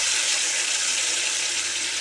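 A ground spice paste for paneer masala pours into a hot pan, making a steady, close, loud hissing rush that continues without break and with no talk.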